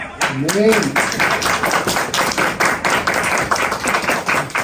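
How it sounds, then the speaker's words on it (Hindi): A church congregation claps along during a Christmas sermon, steady rhythmic hand claps filling the room with a voice briefly rising over them at the start. "बहुत सारी तालियां"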